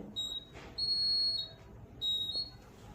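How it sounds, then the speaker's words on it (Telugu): Homemade LDR light-sensor security alarm beeping: three high-pitched tonal beeps of uneven length, the middle one longest, sounding close over a quiet background. "ఎప్పుడైతే ఎల్డిఆర్ సెన్సార్ పైన లైట్ పడడం ఆగిపోతుందో అప్పుడైతే అలారం అయితే బీప్ అవుతుంది"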